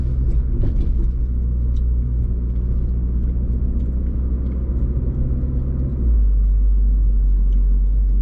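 A deep, steady exhaust rumble from a 2017 Mini Cooper S F56 with a John Cooper Works tuning kit, loud and continuous, with the low drone swelling heavier toward the end.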